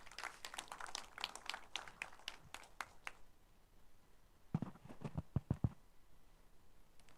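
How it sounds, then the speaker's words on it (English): A conference audience at the React India 2025 event claps for a speaker joining on stage. The applause is faint and distant, with a scattered burst, a pause and then a few more claps. "a huge round of applause for Kaiser to be joining us on stage"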